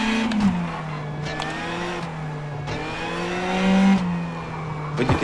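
A rally car in the WRC Generations video game drives with a steady engine drone, its pitch shifting as it revs up and down through gears, with brief bursts of tire and gravel noise and no talking.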